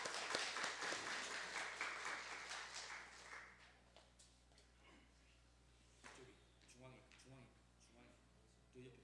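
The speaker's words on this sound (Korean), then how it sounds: "다시 한번 손뼉으로 환영하겠습니다." A church congregation applauds in welcome during a Sunday afternoon service, a burst of clapping that fills the first few seconds and then fades into quieter room noise with scattered sounds.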